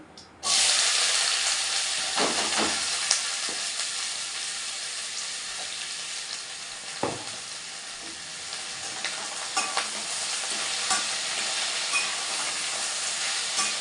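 Pumpkin, potato and onion fry in hot oil with a loud, steady sizzle that starts abruptly and carries on throughout, broken by occasional stirring scrapes and soft knocks close by.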